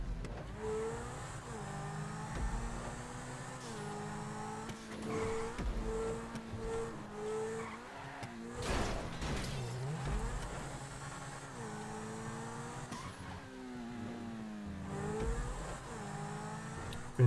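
A Pegassi Zentorno in GTA drives laps on a test track, its engine note rising and falling steadily through shifts and turns, moderately loud, with a brief rushing burst midway.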